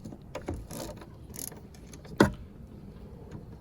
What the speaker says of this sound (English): It's a torque bit. I'm going to use them on my ratchet here.